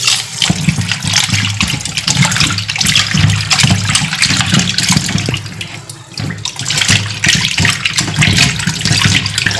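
Tap water gushes and splashes steadily while things are washed under it, a loud, continuous pour with a brief dip partway through.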